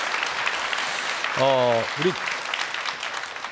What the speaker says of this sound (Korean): 다시 한번 박수 좀 부탁드리겠습니다.